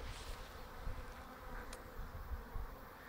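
Honeybees buzz steadily around an active walkaway split hive, a faint, continuous droning hum of many insects with no voices.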